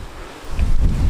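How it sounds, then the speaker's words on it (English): A gust of wind blows across allotment plants outdoors, a low, rough rumble of wind buffeting the microphone that builds toward the end of the short moment, with faint rustling and no talking. "as you can see, the slightest gust and the tops of the plants are sort of blowing over"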